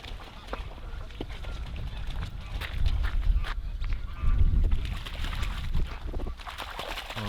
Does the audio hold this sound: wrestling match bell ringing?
no